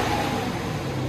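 A Dodge Challenger R/T with a 5.7L HEMI V8 and stock muffler holds a steady rev near 4,000 RPM, a close, even, fairly subdued engine drone over one second.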